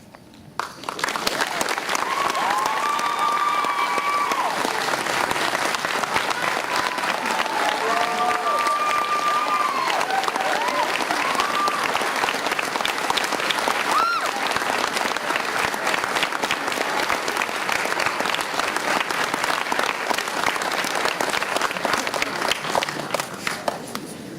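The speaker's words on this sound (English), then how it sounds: "Let's give Michael one more big round of applause." Audience at a state 4-H officer speech event gives a long, steady round of applause, dense clapping from a large crowd lasting over twenty seconds, with faint whoops and cheers rising now and then.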